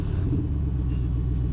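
An AC Cobra sports car driving on the road, its engine giving a steady low rumble heard from inside the car at light throttle, continuous and fairly loud.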